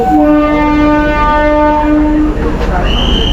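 A train sounds a long, loud horn at a Bengaluru railway station platform, holding a steady multi-tone blast for about two seconds before it cuts off, leaving general station rumble.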